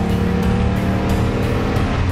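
A Land Rover Defender fitted with a Corvette LS3 V8 accelerates hard on kickdown, a loud, close, continuous engine roar with a rising throaty drone and no talk.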